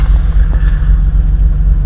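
A 1989 BMW E30 325i engine running just after a cold start, a loud, steady low rumble close to the exhaust with a faint rhythmic pulse.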